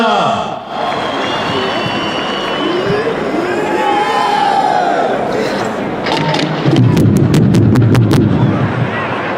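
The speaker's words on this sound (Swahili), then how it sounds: "Tuwapongeze kwa makofi mabibi na mabwana." A large outdoor crowd at a Madaraka Day national celebration claps and cheers steadily, a dense roar of applause with bursts of whistling near the end, a voice speaking over it.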